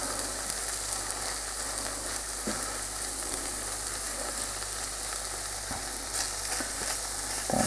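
An egg fries in a pan over ramen noodles with Spam, giving a steady close sizzle throughout with a few small pops and crackles, no voices.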